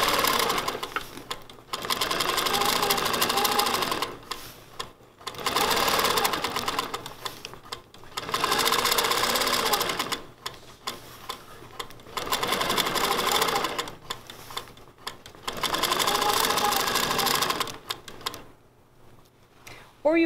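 An Innova sewing machine with a stitch regulator stitching in rapid rhythmic bursts of a few seconds each, separated by brief pauses.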